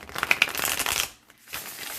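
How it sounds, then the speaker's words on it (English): A new tarot deck printed on card stock is riffled and shuffled close up, giving a burst of crisp, rapid card flutters, a short pause, then a softer second shuffle. "Okay, let's see how it shuffles."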